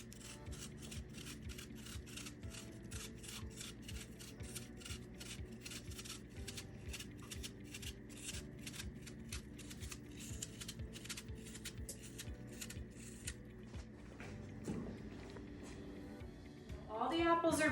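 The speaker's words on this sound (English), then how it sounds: "go ahead and peel about 8 to 10 apples" Apples are peeled by hand for an apple pie, producing soft, rhythmic scraping strokes close up and quiet. The strokes repeat steadily for over fifteen seconds, with faint talking in the background.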